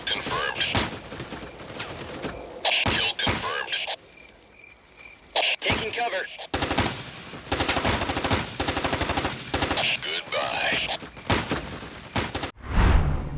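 Gunfire from the tactical shooter game Tom Clancy's Ghost Recon comes in rapid automatic bursts and single shots, loud and close, broken by short pauses and other game sounds.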